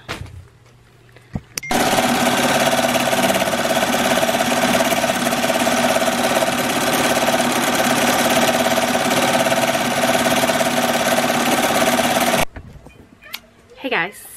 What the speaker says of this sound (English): try to get these 8 shirts embroidered out